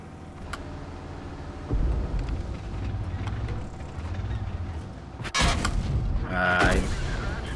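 Tank cannon fire in World of Tanks, a heavy Maus in battle, with engine rumble throughout and two sharp, loud blasts midway and near the end, the last followed by metallic ringing.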